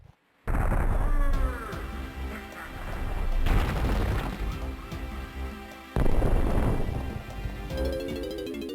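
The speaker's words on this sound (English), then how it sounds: "And that destroys a rock containing a very small cannon." Rock being smashed in the video game Donkey Kong 64, loud booming crashes and rumbling debris with game music and sound effects layered over it, a second heavy impact hitting near the end.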